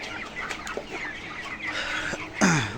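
Broiler chickens cluck in a poultry shed, a steady low chorus of soft clucks close by, with one louder cluck near the end and no talking.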